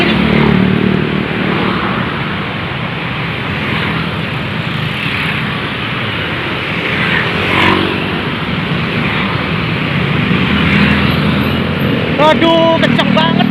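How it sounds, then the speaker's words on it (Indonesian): Fast cars rushing along a busy road in Depok near Pesona Square, forming a loud, steady roar of close traffic that swells and fades as vehicles pass, with a voice talking over it. "Ini mobilnya kencang-kencang lagi nih."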